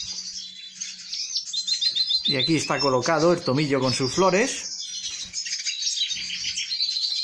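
Small caged songbirds being raised at home chirp and tweet steadily in thin, high bursts throughout. Someone speaks Spanish over them in the middle, and the birdsong carries on alone before and after.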